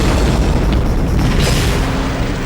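Deep explosion boom of the 1908 Tunguska blast in central Siberia, a loud, sustained rumbling roar that fills the whole stretch without letup and eases slightly at the end.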